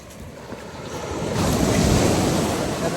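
Ocean waves rolling onto the rocky shore at French Beach near Victoria, a low roar that swells louder midway, with steady wind buffeting the microphone throughout.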